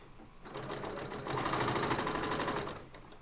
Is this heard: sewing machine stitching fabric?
yes